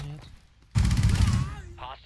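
Sustained automatic machine gun fire from a video game terrorist hunt mission, a loud rapid burst lasting under a second before easing off, with voices talking and a short synthetic game voice around it.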